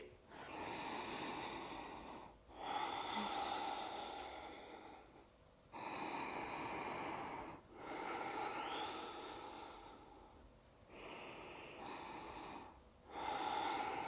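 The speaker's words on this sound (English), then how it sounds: "Ribs expanding as you breathe deeply." Slow, deep breaths during a yoga practice, long drawn-out inhales and exhales alternating in a steady rhythm, close and breathy, with no talking over them.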